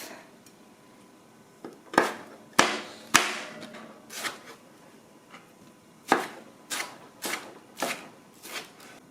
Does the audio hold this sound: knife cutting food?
yes